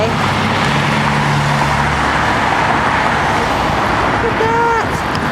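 Heavy Berlin city traffic with buses rumbling close by, a steady roadway roar with low engine drone and a brief horn-like tone near the end, continuous throughout.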